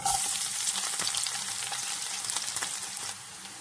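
Garlic, fenugreek, mustard seeds and cumin sizzling in hot oil for a Kerala moru curry, a steady bright frying hiss close by with small crackles, fading slightly near the end, no voices.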